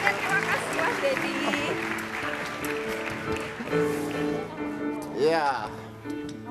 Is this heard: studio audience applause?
yes